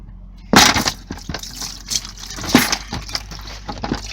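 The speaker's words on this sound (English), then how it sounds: "the bung's now released and we're letting all the coolant out" Antifreeze coolant splashing and trickling from a released brass drain bung on an Alde G13 3020 caravan heating system, with a sudden burst of liquid followed by uneven pouring and clinking.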